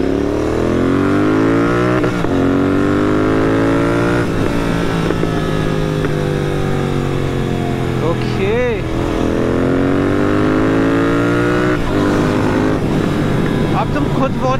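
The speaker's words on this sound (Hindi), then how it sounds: "वॉच करो इसकी आरपीएम कितना जल्दी हिट कर रही है, मतलब बहुत ज़्यादा क्विक हो गई है बाइक अब।" A Royal Enfield GT 650 twin fitted with a BMC performance air filter and NGK spark plugs revs hard up close, climbing quickly through several loud throttle blips and settling back between them.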